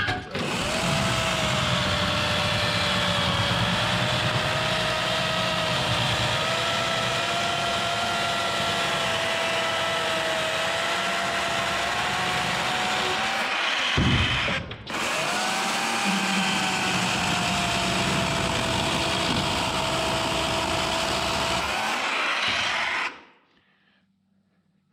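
Small electric chainsaw with worn bearings trimming wood at a cabin, a loud steady high whine running for over twenty seconds with one brief pause before cutting off.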